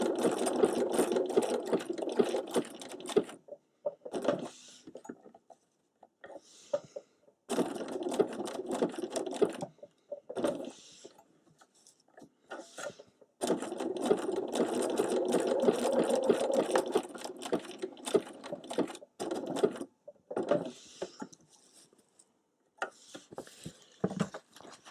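A sewing machine satin stitches tulip shapes in short, stop-start bursts of rapid rattling stitches separated by pauses, close and steady in volume.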